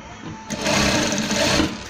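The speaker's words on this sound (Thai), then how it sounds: "เย็บล็อกไว้เลยค่ะ" A sewing machine stitches a shirt collar up close, starting after a brief quiet moment and then running as a steady, fast mechanical buzz for over a second before easing off.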